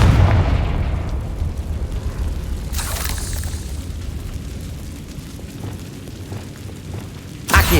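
Bombarda and Confringo explosion spells going off in the Hogwarts Legacy video game: heavy booming blasts with deep rumbling tails, one big burst midway and another sharp hit at the end, loud and close, no speech over them.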